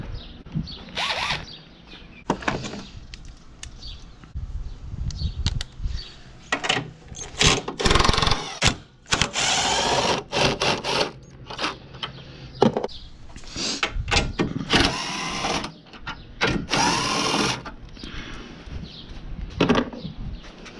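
A wrench breaks two bolts loose and ratchets on a Ford Mustang S550 in the engine bay near the strut tower brace, giving sharp clicks, ratcheting bursts and metallic clanks in irregular clusters, close by.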